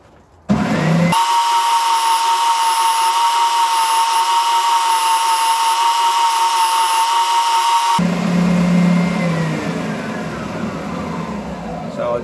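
A power tool chamfers the edge of a resin-top guitar body, giving a loud, close, steady high-pitched whine that holds for about seven seconds and then cuts off, leaving a fading rumble.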